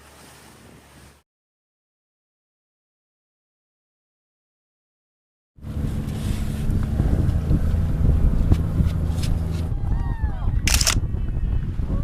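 Boat in the Indian Ocean off the Maldives moving in closer to a pod of dolphins: after a brief quiet stretch, a loud, steady engine drone and wind rush take over.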